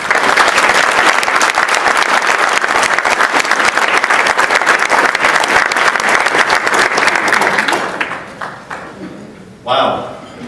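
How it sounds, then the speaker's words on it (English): Loud, dense applause from an audience at an award acceptance ceremony, sustained for about eight seconds before fading, followed by a brief burst of sound near the end. "We applaud you."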